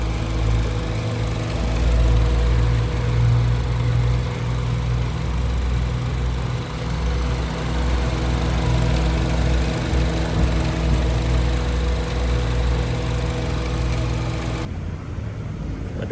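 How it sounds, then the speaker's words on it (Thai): A 2009 Honda Jazz GE 1.5 SV engine idles steadily at close range, a smooth low hum with faint vibration, running alone without talk. "เครื่องยนต์เดินเรียบนะครับ"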